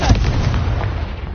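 A Confringo spell blasting in a video game, a single sharp deep boom at the start that rolls into a dense, sustained rumbling roar filling the rest of the moment, loud and close with no talk.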